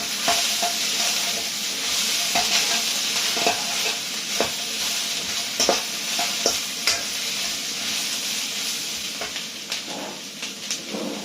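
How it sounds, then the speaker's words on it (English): Onions and bell peppers fry in a hot pan with a steady, close sizzle, while repeated utensil strokes scrape and stir through the vegetables at an uneven rhythm. "Let's get the vegetables in."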